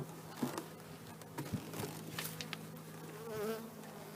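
Honey bees buzzing around an open hive at a church apiary, a close, steady drone with individual bees whirring past near the listener, soft and with no voices.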